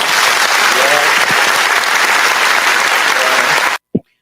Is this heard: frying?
no